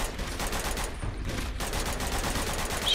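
Gunfire in the game Uncharted 2: Among Thieves, a dense run of rapid crackling shots at moderate level, steady throughout with brief dips and no voices.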